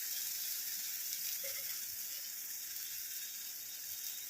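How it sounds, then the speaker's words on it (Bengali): Steady, soft hiss of finely ground spice paste frying in hot oil in a pan, a continuous close sizzle with no distinct pops. "এটা আমি ঢেলে দেবো। খুব মিহি করে পেস্ট করে নিয়েছি।"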